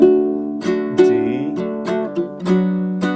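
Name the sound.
baritone ukulele chords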